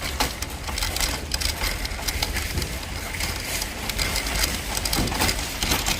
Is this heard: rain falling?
yes